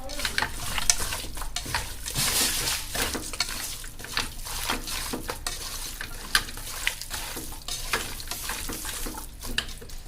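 Chicken pieces with salt and coconut oil stirred together in a pressure cooker, a steady close scraping and squelching rhythm with occasional spoon knocks against the metal, no voices.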